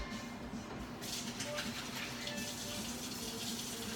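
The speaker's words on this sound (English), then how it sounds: "Let's wash our hands." A kitchen tap turned on to wash hands before cooking, water gushing steadily into a sink and starting abruptly after a second, close and continuous.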